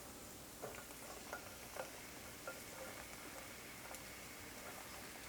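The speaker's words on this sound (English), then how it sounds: "I'm going to start off by getting these zucchini on here," Zucchini sautéing in a pan makes a faint, continuous sizzle and hiss, with a few soft scraping taps from stirring spaced through the background.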